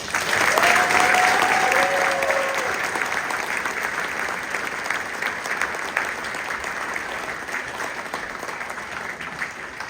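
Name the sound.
audience applause for seniors at band concert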